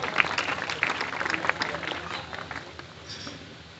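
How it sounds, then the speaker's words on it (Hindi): Audience applause at a district-level talent award ceremony, a few scattered claps over crowd murmur and voices, fading out toward the end. "जोरदार तालियां के लिए"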